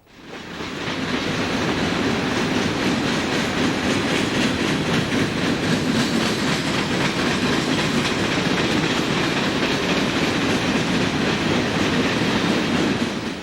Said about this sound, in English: Eastbound intermodal train approaches. It has helper engines ahead.